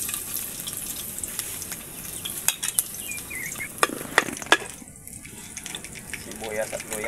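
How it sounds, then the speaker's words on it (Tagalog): Garlic sautéing in a hot pan for a home-cooked oxtail humba, a close soft sizzle with scattered clinks and scraping of a utensil stirring, fairly quiet and continuous. "Magigisa na tayo."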